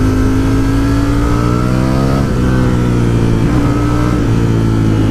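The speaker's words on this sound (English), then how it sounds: "typically a car coming on this corner" A car engine rises and sweeps past close by, its pitch climbing then dropping as it passes, loud and steady throughout.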